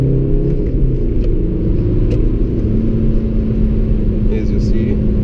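Remapped Audi A3 1.9 TDI 8L diesel, tuned from 90 to about 155 hp, pulling hard under acceleration with a steady, loud low engine drone and rumble heard from inside the car, with no talk over it.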